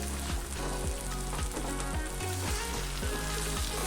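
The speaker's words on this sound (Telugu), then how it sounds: "ఒక 2 నిమిషాలు ఈ కారం పొడి ఉప్పు బాగా వేగాలి" Salt and chili powder fry in oil for a tomato pickle, giving a soft, steady sizzle with faint spoon scrapes and no voices.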